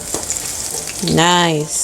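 Banana fritters sizzling in hot oil as they are flipped, a close, steady frying hiss throughout, with a person briefly speaking over it.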